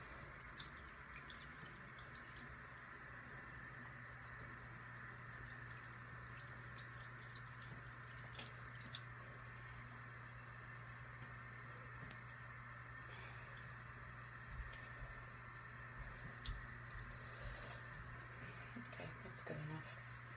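A makeup brush is washed with shampoo under running water, a faint, steady watery hiss with small intermittent splashes and squelches throughout.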